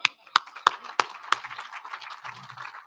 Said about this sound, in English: I just wanted to give them one more round of applause